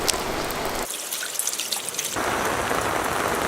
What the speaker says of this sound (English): but it definitely rains in Southern California.